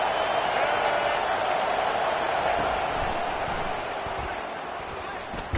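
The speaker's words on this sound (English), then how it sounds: "This crowd bringing the energy and noise early." Roaring stadium crowd at an Alabama versus Clemson college football game, a dense, steady wall of cheering noise that eases slightly toward the end.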